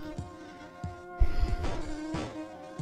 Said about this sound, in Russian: Пчелка.